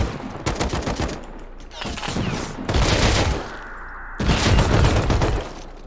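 Automatic weapon hip-fired in the game Rust, several loud close bursts of rapid gunfire separated by short pauses, with one burst trailing into a ringing tail.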